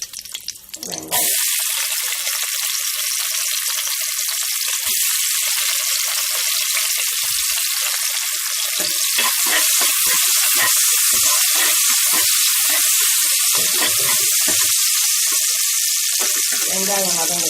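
Onions frying in a hot pan with a loud, constant sizzle, occasional stirring scrapes and bubbling underneath, close and steady for the whole stretch.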